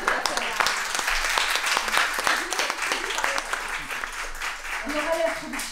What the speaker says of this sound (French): Est-ce qu'on peut quand même applaudir pour un début?